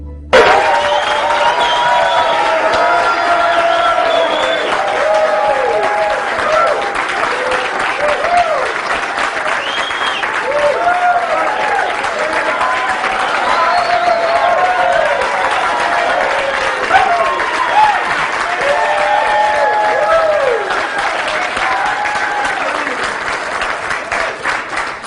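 An audience breaks into sustained applause to welcome Dr. Neil Solomon, a dense, loud, steady clapping that lasts the whole stretch, with cheering and voices mixed in.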